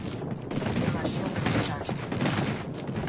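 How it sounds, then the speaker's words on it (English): Dense, rapid bursts of gunfire and muffled explosions crowd together in an airstrike in a video game, loud and continuous with a voice talking faintly underneath. "Watch an airstrike."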